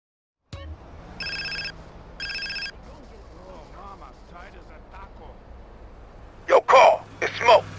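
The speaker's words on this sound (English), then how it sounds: "it'll actually trigger a pretty unique phone call from Big Smoke if CJ's body fat is pretty high." In GTA San Andreas, a phone rings with two short, bright electronic trills near the start as Big Smoke calls, followed by quieter background sound and then louder voiced bursts toward the end.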